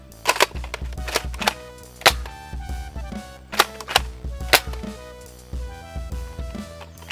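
An Adventure Force Pyroraptor toy blaster fires darts in a handful of sharp, separate snapping pops spaced a second or more apart, each loud and close, over a faint steady tonal background.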